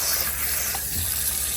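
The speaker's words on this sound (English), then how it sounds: "I drain all the water out" Water runs steadily from a kitchen tap into a sink while soaked produce is drained and rinsed, a continuous close splashing rush with no voices.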